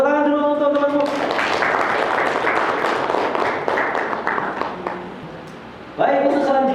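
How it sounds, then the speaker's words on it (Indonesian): Students clap for a classmate in a classroom, a dense, loud patter of many hands for about five seconds, with voices talking at the start and end. "tepuk tangan dulu untuk temanmu"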